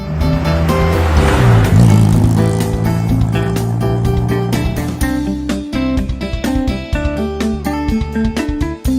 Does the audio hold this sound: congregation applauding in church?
no